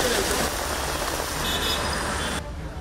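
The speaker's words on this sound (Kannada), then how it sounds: "3 ದಿನದ ಬಳಿಕ ಕಾಣಿಸಿಕೊಂಡಿದ್ದ ಸೂರ್ಯ ಮರೆಯಾಗಿ ಮಳೆ ಆರ್ಭಟಿಸಿತ್ತು." Heavy rain pours in Bengaluru during Cyclone Fengal, a loud, continuous hiss close by, easing slightly near the end, with faint traffic in the background.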